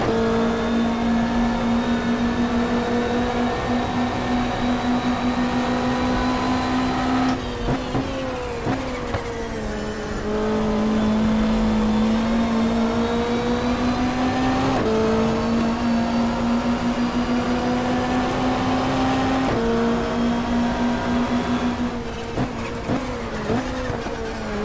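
A 1995 Australian Super Touring race car at Symmons Plains in the GTR2 game revs hard and steadily, its loud engine tone rising and falling with sharp gear-shift breaks every few seconds, close and unbroken throughout.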